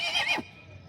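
A horse at a busy horse market gives a single loud, close whinny that drops off sharply after half a second, leaving quiet background murmur.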